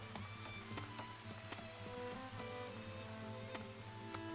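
Rain falling in a Farthest Frontier alpine valley settlement, a constant patter with scattered sharper drops over a low steady hum, even and continuous with no speech.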